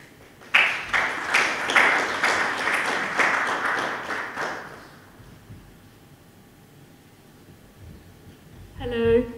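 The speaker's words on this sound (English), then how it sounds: "So, with a warm applause," Warm audience applause welcomes a speaker at a conference panel, a dense burst of many hands clapping for about four seconds before fading into quiet room tone, followed by a short high electronic tone.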